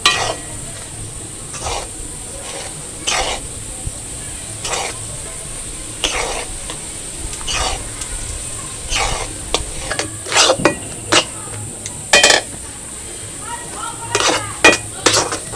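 A spatula scrapes and knocks against a pan as a thickening sandesh mixture is stirred by hand, giving repeated sharp clinks and scrapes at an uneven rhythm over a faint steady background hiss.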